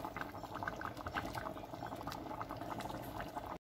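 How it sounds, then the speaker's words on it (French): Peanut sauce with smoked fish, mafé, simmers in a pot, bubbling and popping continuously at close range before cutting off abruptly. "On va laisser cuire nos arachides pendant environ 30 minutes."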